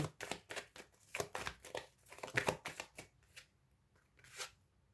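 Tarot cards handled and turned over during a reading, a close, quiet run of papery flicks, slides and snaps in an irregular rhythm, fading to sparse touches near the end, with no talking.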